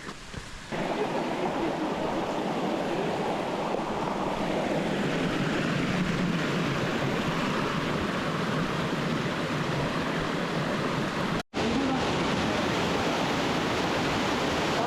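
Rkoni waterfalls in Georgia pour in a steady, loud broadband roar of rushing water that continues unbroken, apart from one brief dropout near the end.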